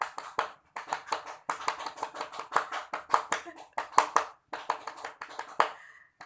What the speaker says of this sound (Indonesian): kita tepuk pramuka bersama-sama 2 kali ya